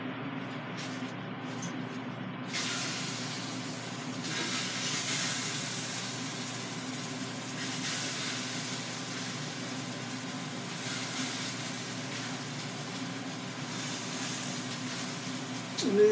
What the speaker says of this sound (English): Now it's ready to be put in the air fryer grill.